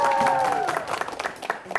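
A studio audience claps and cheers on a televised quiz show, a dense burst of applause that thins into scattered claps while a host's voice carries over the top.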